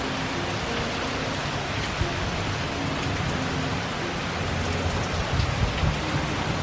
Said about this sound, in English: The second round of rain is coming.